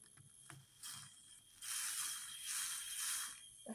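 A mixer froths a strawberry cappuccino with a quiet, buzzing whir in uneven bursts, stopping and starting, then a longer steady run. It sounds close but faint, with no talking.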